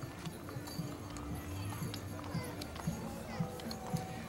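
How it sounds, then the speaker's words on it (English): Horses' hooves clip-clop at a steady walking rhythm along a Christmas parade route in Wells, Maine, moderately close amid crowd noise and background voices. "Beautiful horses."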